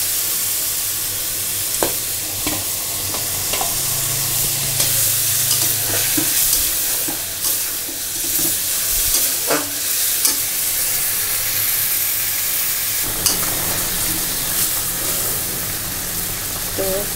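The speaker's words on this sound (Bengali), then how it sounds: "ধুয়ে রাখা মাছ দিয়ে দিচ্ছি।" Washed fish pieces frying in a pan of hot oil, a loud continuous sizzle with intermittent scrapes and clatters of a spatula across about seventeen seconds, close and without speech.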